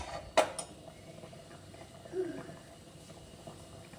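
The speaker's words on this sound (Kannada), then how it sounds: "ಒಂದು ಲಿಡ್ ಕ್ಲೋಸ್ ಮಾಡ್ತಾಯಿದ್ದೀನಿ" A lid closed on a cooking pot of chicken gravy, one sharp metallic clank near the start followed by a softer clink, close and otherwise quiet.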